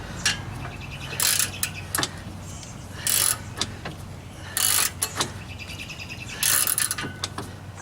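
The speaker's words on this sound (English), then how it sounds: "So whenever I go to reset the ratchet, I hold this, push that ratchet down" A ratchet loosens a power steering pump bolt on a Jeep Wrangler YJ, with bursts of rapid clicking and sharp squeaks repeating every second or two over a steady low hum.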